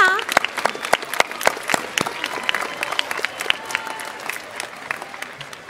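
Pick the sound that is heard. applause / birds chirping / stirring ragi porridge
applause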